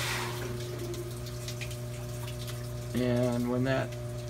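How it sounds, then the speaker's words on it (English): Water running out of a pipe in a filtration pit, a steady trickling flow over a constant low mechanical hum, with a brief louder tonal burst near the end. "there's water going in, coming out of this pipe"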